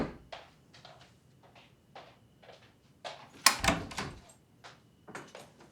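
Door sounds at a locked door in a home: a series of sharp clicks, rattles and knocks from the handle and lock, with one louder bang midway, close and alone without talking.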